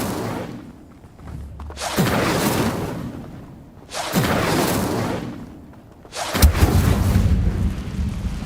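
Fire spell bursts in Hogwarts Legacy: three loud, roaring whooshes, each swelling and fading over about two seconds with a rumbling low end, separated by short quieter gaps, no talking.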